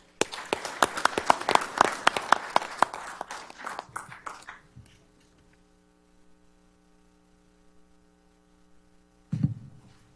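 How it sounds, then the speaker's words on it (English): Audience applause at a county commission meeting, a burst of clapping for honored employees that fades after about four seconds, followed by a steady electrical hum and a brief thump near the end. "If everyone could just please join me in one more round of applause for all these great folks."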